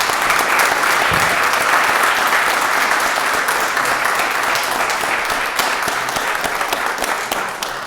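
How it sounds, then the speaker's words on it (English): Loud, dense applause fills a city council chamber in Pittsburgh, a crowd clapping continuously and evenly before easing off slightly at the end. "Can we all give them a round of applause and say thank you?"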